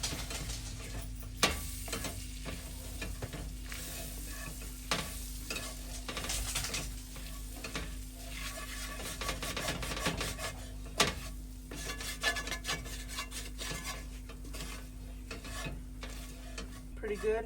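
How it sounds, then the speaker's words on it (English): Flour cooking in a pan for biscuit gravy, stirred with steady scraping strokes over a soft continuous sizzle, close and moderately quiet with a faint background hum. "Cook that flour off for a minute."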